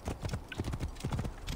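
Horse hooves clip-clop at a steady trot in the video game Assassin's Creed Origins, close and fairly loud, with a brief whinny-like tone partway through.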